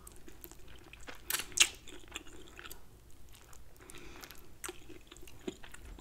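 Close crunching and biting on double-battered, crisp-fried chicken wings, a few sharp crackly bites with softer chewing between them and no talking.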